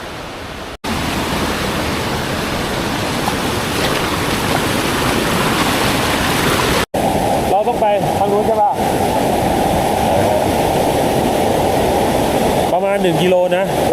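A stream flows along a forest hiking trail close to a waterfall, sending up a steady, loud rushing wash that continues almost unbroken, with brief dropouts and faint voices or movement near the end.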